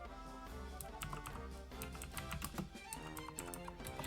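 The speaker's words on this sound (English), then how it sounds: "You're gonna hear me typing a lot on my mechanical keyboard here." Fast, uneven clacking of keys on a mechanical keyboard, continuous typing close up with steady taps over faint background sound.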